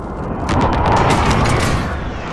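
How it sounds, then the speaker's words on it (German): Airstrike explosions rumble in the Call of Duty Warzone video game, a dense, continuous wash of booming blasts and crackling debris that stays loud and sustained throughout, with no gaps between impacts. "Luftschlag im Anflug."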